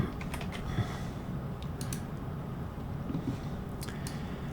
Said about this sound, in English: Just type in TCP View.